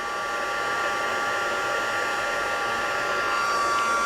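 An embossing heat tool blows steadily over a large hardwood piece, a constant close whooshing hum with a faint rise in intensity toward the end and no talk.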